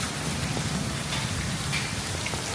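Rain pours down over a city in a dense, even hiss of drops striking surfaces, continuous and alone without any voices.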